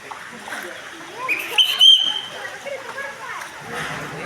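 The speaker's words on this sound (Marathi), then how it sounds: "संपूर्ण असं पाणी आलेलं आहे" Floodwater surging through a Dutta temple at Nrusinhwadi, a continuous splashing rush with a louder burst midway, while someone speaks over it.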